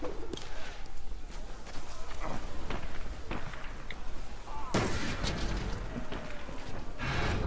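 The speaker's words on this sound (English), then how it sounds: "just chuck a grenade down at that box of dynamite" Valiant Hearts: The Great War on Xbox One, a grenade thrown at a box of dynamite sets off a loud blast, heard amid continuous wartime game sounds of gunfire and bangs, with a big burst near the middle.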